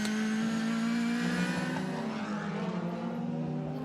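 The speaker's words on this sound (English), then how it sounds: "This is a great shot on the splitter cam then of Timo Glock's BMW." A BMW DTM touring race car at the Nürburgring, heard from an onboard splitter camera, gives a loud, steady engine drone with a strong low tone that shifts slightly in pitch as it runs, with no talk.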